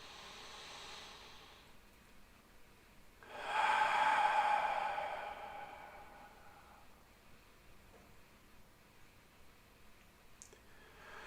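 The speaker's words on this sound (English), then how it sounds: "So you're breathing hard enough to feel the vibration and you actually hear the breath." Heavy breathing drawn through the throat during a seated meditation, a single long rasping breath that swells in the middle, then softer airy breaths, close and quiet with no talk.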